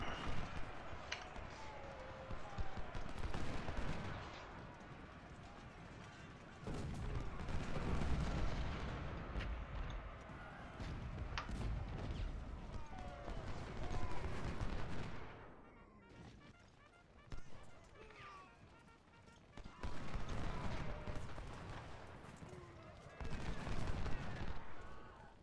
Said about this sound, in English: took an enormous amount of damage from canister and gunfire